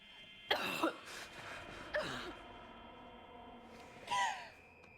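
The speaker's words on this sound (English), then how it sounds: "My cough, I had it before all this." Three harsh coughs in the 2008 film Day of the Dead, spaced a second or more apart, close and fairly loud, with quiet room tone between them.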